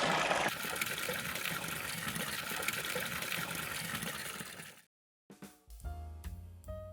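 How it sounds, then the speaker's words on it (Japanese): Hot spring water gushes steadily from a stump-shaped inlet into an outdoor bath at a rustic Fukushima onsen inn, a loud continuous splashing flow that breaks off briefly before other sounds follow. "こちらの切り株のような入り口からお湯が出ているというふうになってます"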